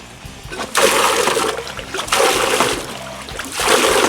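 Water from a garden hose being run through a freshly fitted threaded pipe fitting, rushing and splashing loudly in three strong surges with a brief easing between each.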